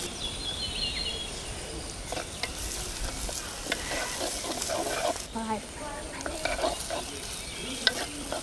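Shallots are added to hot oil already holding fenugreek, mustard seeds, curry leaves and browning garlic for a Kerala-style vegan curry: a continuous close sizzle broken by the scrape and clink of stirring.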